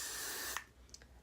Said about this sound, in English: Little extra spray just to smooth this out